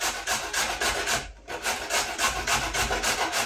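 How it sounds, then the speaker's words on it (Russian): A carrot being grated on a coarse grater, rhythmic rasping strokes repeating quickly and evenly, close and fairly loud, with one brief pause midway and no talking. "Морковку сейчас натру на крупной терке."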